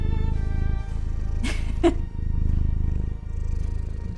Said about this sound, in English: Yeah, that is a cat purring. That is that cat purring.